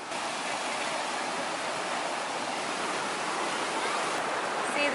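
South Creek among giant old trees in Calaveras County, northern California: a steady, loud broadband rush of flowing creek water, unbroken and close, with no voices over it.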